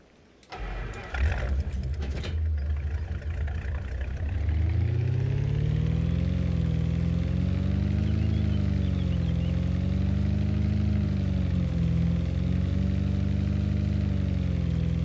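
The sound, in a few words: pickup truck engine starting and idling, from a farming video game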